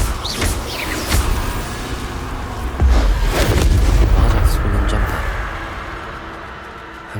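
Confringo blasting spells exploding in Hogwarts Legacy combat, several loud booms with a heavy blast near the middle and a rumbling tail, over game noise and no speech.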